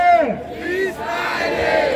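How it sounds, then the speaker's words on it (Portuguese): A crowd at a freestyle rap battle roars, cheering and shouting loudly together in a dense, close wall of voices with whoops rising above. "Faz barulho pra batalha!"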